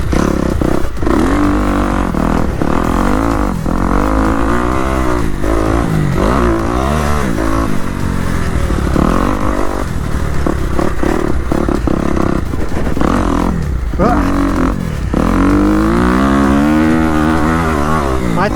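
A motocross bike engine revs hard and loud on a sand training track at Mesa MX, holding a continuous throttle roar with rising and falling pitch as the rider stays on the gas.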